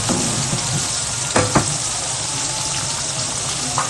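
Butter melting and sizzling in a pan while making vodka sauce, a dense, steady close sizzle with a couple of brief clinks or stirring knocks and no talk.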